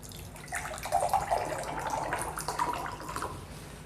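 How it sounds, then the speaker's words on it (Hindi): RO-purified water poured into a drinking glass, a steady splashing pour lasting about three seconds at moderate loudness, close by with no voices. "एक में हम दे रहे हैं आरओ का पानी"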